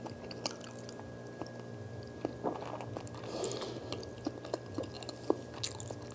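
Plantains eaten with fufu are chewed close to the microphone, giving soft, wet, squishy bites with scattered clicks over a quiet room hum.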